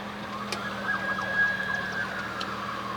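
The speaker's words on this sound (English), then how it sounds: "I think the police is chasing motorcycles." A police car siren wails faintly in the distance along a short street strip in front of a shop, a steady rising tone carried over the low hum of a car's interior.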